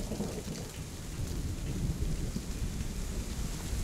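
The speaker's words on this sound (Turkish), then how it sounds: "Yağmur yağıyor lan." Heavy rain pours steadily in the video game Hellblade with a deep rolling rumble of thunder underneath, dense and continuous, with no voices.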